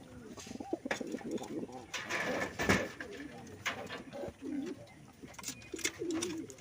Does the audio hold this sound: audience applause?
no